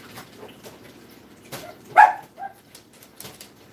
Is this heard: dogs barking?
yes